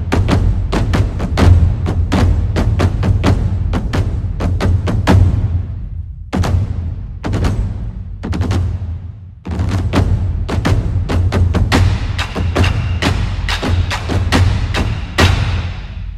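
A hard-hitting ensemble of large Chinese dagu drums pounds out rapid, loud strikes in dense bursts with brief pauses, heavy booming lows and sharp attacks, close and dry.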